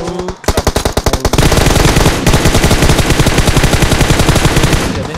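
Loud, sustained automatic gunfire in PUBG Mobile, starting as a brief run of separate shots and then settling into a dense, unbroken stream of rapid rounds up close, with no talking.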